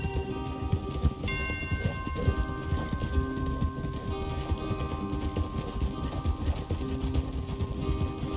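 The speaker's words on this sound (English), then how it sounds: "Your horse is here." Horse hooves clip-clop steadily in Red Dead Redemption 2, a continuous rhythmic trot running through the whole stretch alongside an occasional faint whinny and low game ambience.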